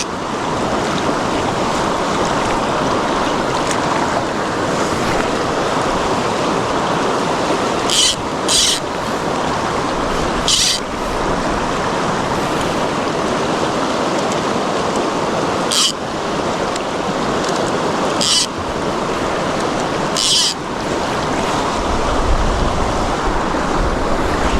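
The turbulent water of the River Tyne rushes loudly and steadily throughout, a dense roar with a few brief bumps of wind or handling noise.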